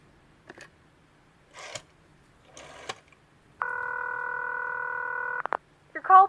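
An old telephone in a radio drama gives a few short clicks and rasps of dialing, then a loud steady ring tone for about two seconds, cut off by a click and a brief electronic chirp.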